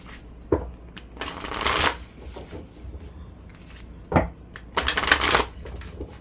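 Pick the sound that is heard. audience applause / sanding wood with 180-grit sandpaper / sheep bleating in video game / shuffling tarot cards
shuffling tarot cards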